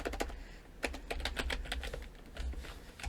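Quick, close clicking of computer keyboard keys as a short word is typed, a brisk run of distinct taps over a few seconds with no talking.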